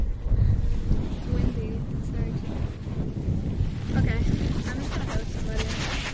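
Strong wind buffets an outdoor microphone in a steady low roar with gusty swells, loud and continuous, and a voice can be heard faintly beneath it.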